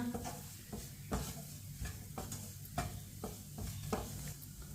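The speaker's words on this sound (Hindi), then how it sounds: "मसालों को चम्मच चलाते हुए 1 मिनट के लिए मैंने पका लिया है।" Spices fry over a low flame in a pan for aloo samosa filling while a spoon stirs them, making regular scraping strokes about every half second over a soft, steady sizzle.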